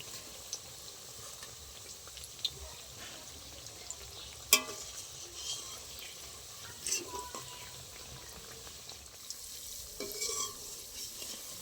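A layered tea-time snack fries in oil to a deep red colour, a low, even sizzle with occasional soft scrapes and one sharper clink as it is turned.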